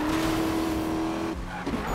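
Tire skid from a car sliding on a slippery road in the racing video game Need for Speed (2015), with a sustained engine drone that cuts off partway through, alone with no talk.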